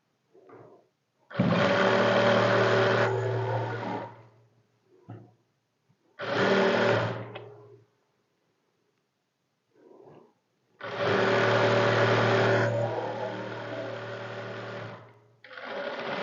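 Domestic sewing machine stitching a trouser seam in three separate runs, a loud close whirring motor with a steady buzzing hum, broken by pauses and soft handling noises.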